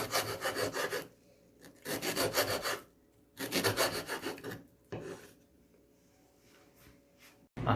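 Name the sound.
cutting an ingredient into pieces for carbonara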